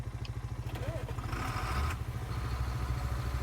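A John Deere 7700 tractor engine in Farming Simulator 19 rumbles with a steady low pulsing throb while pulling wagons, growing slightly louder midway, with a voice speaking over it.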